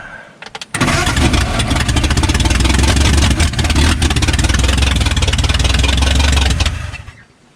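A 1952 Ford F1 field find with a flathead engine cranks over loud and close on the starter, a few brief clicks and then a long rapid rhythmic churning that runs for about six seconds and stops without catching.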